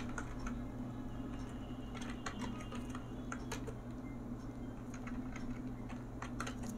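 Soft keystrokes tapping on a computer keyboard while text is entered, a quiet irregular clicking over a steady low hum with no talk.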